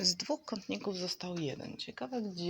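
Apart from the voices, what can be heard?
No everyday noises stand out.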